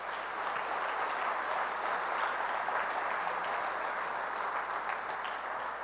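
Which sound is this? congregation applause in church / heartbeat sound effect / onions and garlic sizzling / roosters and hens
congregation applause in church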